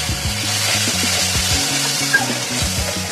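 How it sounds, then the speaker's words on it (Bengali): Spice masala for a soyabean kofta curry sizzling steadily in a pan with a splash of water, a continuous close frying hiss under faint background music with no talking. "এবার একটু সামান্য জল দিয়ে কষিয়ে নেব মশলাটাকে।"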